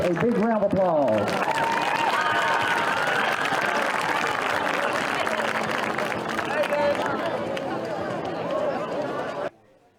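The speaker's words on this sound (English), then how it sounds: "Let's give all of our court members a big round of applause." Football stadium crowd applauds the homecoming court at halftime at Don McKenzie Field in West Liberty, sustained clapping and cheering with voices mixed in, cutting off abruptly near the end.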